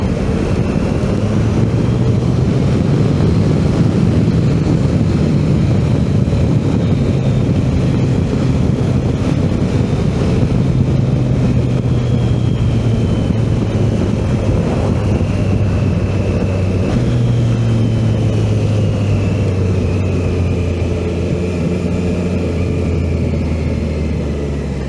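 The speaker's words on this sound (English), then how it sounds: "it sounds great, even for a stock exhaust" A Triumph Tiger 660 motorcycle runs on its stock exhaust with a continuous engine drone whose pitch slowly rises and falls, like riding at varying speed, loud and steady with no one talking.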